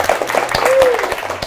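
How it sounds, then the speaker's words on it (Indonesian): Brief audience applause on an Indonesian talk show, scattered clapping with a voice speaking over it, short and moderately loud. "Tepuk tangan."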